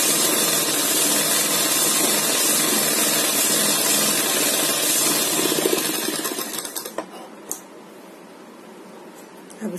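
A sewing machine runs in a fast, continuous whir while stitching a top seam on a poncha, loud and close for about six seconds, then slows and stops, leaving a few clicks and soft handling noises.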